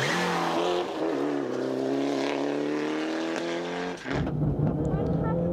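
Onboard a rally car nearing the stage finish at Rally Hawkes Bay on tarmac tyres: the engine howls loud and steady at high revs, then drops sharply as the driver lifts and shifts down, with no talking.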